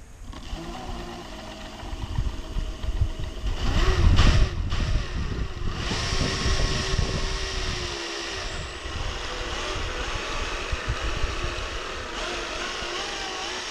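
The brushless motors of a homemade 5 kW electric scooter whir against its tire, a steady mechanical whine that swells in the middle and then holds at an even, moderate level.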